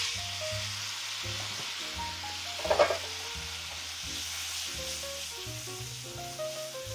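Pork pieces dropping into a hot pan and sizzling steadily, with a brief louder crackle partway through while music plays underneath.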